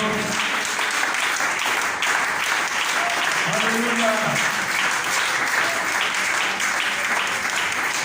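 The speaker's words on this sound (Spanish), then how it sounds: "démosle ese aplauso al Señor" Steady, dense applause from a church congregation fills the whole stretch, loud and unbroken, with a voice calling out briefly over the clapping.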